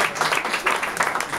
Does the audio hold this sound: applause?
yes